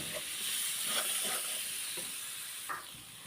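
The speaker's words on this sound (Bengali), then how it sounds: "আমি এখন মাংসটা মশলাগুলোর সাথে ভালোভাবে ভাজা ভাজা করে নিচ্ছি" Meat frying in a pan with black pepper and spices, a steady close hiss and sizzle with occasional stirring scrapes, no talking.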